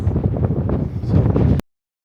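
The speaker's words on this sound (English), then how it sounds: "It's very windy out here." Strong wind buffets a microphone outdoors with a loud, steady low roar and rustle for about a second and a half, then cuts off abruptly to silence.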